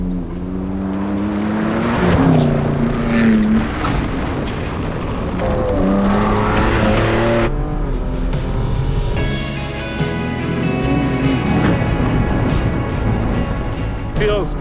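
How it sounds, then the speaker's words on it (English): The #773 Ford Ranger Raptor desert race truck is driven hard down a test track, its engine revving loudly and climbing through repeated gear changes against a constant rushing roar. "getting back in the 773 Ranger Raptor, running down the test track here as hard as we can"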